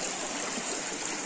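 A small stream of water runs beneath a little stone footbridge on a farm in Uttarakhand, a close, steady trickling and rushing flow with no break.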